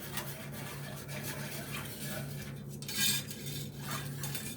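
Metal whisk scraping and clinking against the bottom of a sauté pan while a mustard pork sauce is stirred, with a steady rhythmic scratching and a few louder taps up close.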